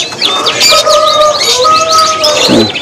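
Several small caged birds, including red-headed finches, chirp and tweet busily at close range at a bird market, overlapping bright calls with a few longer whistled notes, no talking.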